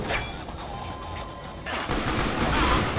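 Gunfire in the video game Warframe: a dense, continuous volley of shots that grows louder and fuller partway through, with no voice over it.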